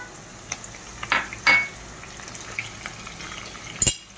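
Curry leaves dropped into hot oil for tempering a Diwali poha chivda, giving a few sharp crackling bursts and spits over a low steady sizzle, with a light utensil clink near the end.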